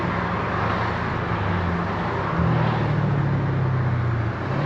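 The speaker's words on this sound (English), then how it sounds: "I'm gonna roll the window down so y'all could enjoy the" A car drives at night with the window rolled down, a steady close engine drone and road rush filling the cabin, the low hum rising slightly partway through with no one speaking.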